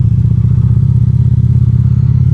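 Liquid-cooled engine of a 2025 Indian PowerPlus Limited motorcycle revving up, a steady, loud, deep throbbing drone with rapid low pulsing that holds throughout, close by with no talk.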